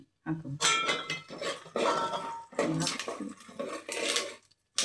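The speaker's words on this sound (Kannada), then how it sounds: "ಕರಿಬೇವು, ಚಟಪಟ ಅಂತ ಇದೆ" Curry leaves crackle and spit in hot oil in a pan of peanuts, loud bursts of sputtering that come in close waves with short quiet gaps and no voices.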